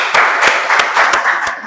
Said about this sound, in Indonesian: kita kasih aplaus yang meriah